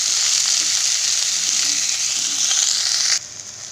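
Spices with salt, turmeric and green chili sautéing in a pan for a potato and pumpkin dish, a loud close continuous sizzle that drops away abruptly near the end.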